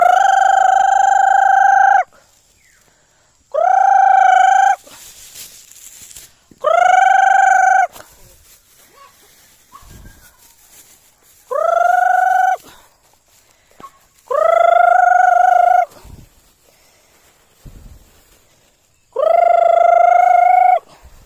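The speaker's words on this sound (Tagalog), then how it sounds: "Saan na kayo mga manok?" Chickens cluck while a rooster crows several times in long, loud calls spaced a few seconds apart, close by, with quieter clucking between crows.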